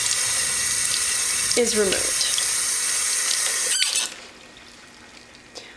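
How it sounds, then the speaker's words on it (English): Tap water runs steadily into a sink while makeup brushes are rinsed, with a few squeaks and a brief spoken remark, then the flow stops and the room goes quiet. "run it over under some water"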